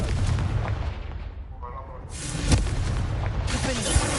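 A Confringo explosion spell cast in a Harry Potter video game on PS5 gives a booming burst amid continuous rumbling game noise, with a second, smaller pop near the end.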